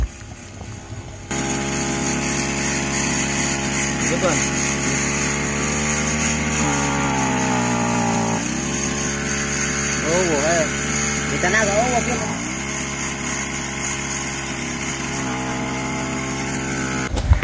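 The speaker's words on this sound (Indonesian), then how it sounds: "kali ini saya mau berbagi video tentang trouble pada mesin rumput" A faulty grass trimmer's small engine runs unevenly, its droning whine rising and falling as it is throttled, with surging and dipping revs over a steady rough idle, loud and close throughout.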